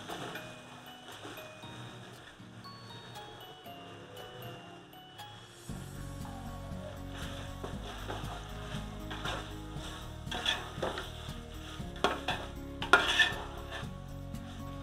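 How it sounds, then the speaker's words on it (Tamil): Chicken sautéing with ginger-garlic paste in a large catering pan, quiet at first, then louder steady frying with scraping stirs and metal clanks that grow busier toward the end. "இப்போ இஞ்சி பூண்டு பேஸ்ட் சேர்த்துக்கலாம் சிக்கனுக்கு. எல்லாத்தையும் நல்லா வதக்கிக்கலாம்."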